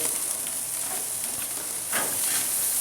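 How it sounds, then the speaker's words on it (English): Jalapeno bacon cheddar burgers frying, a soft steady sizzle and hiss heard from nearby at low level, with no talking. "we got the jalapeno bacon cheddar burgers going"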